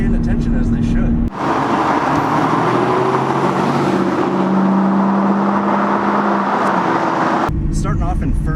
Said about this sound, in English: Starting off in first in this car